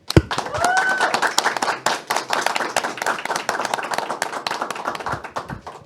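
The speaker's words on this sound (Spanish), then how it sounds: "Vamos a despedir este primer segmento con un fuerte aplauso" Applause from a small audience on a Catholic faith program, a few hands clapping in distinct, uneven close-up claps that thin out toward the end, with a brief whistle at the start.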